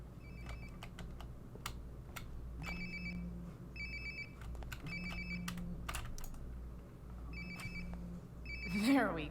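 In Life is Strange: Before the Storm, a phone rings in repeated short electronic bursts at a steady rhythm, moderately near, over soft background clicks and room tone, with a rising swoosh at the end.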